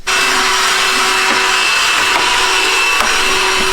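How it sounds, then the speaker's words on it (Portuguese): A vacuum cleaner runs close by with a loud, steady whine and a few small clunks and bumps, used to clean inside a motorhome, with no one talking. "ela não gosta muito do barulho do aspirador"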